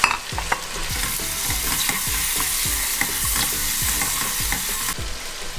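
Tomatoes hit a hot pan with pav bhaji masala and sizzle loudly, with repeated scraping strokes of a spoon stirring through the frying mixture in a steady rhythm.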